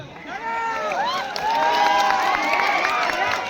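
A village crowd at a Navratri gathering claps and cheers to welcome a newly seated tribal woman sarpanch. Shouts and voices rise over the applause, and the sound grows fuller partway through.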